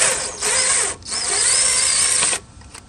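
Power driver fitted with a magnetic bit backs out small screws from a headlight bezel on a Ford Mustang II, buzzing in two close, steady whirring bursts with a brief pause between, then stopping.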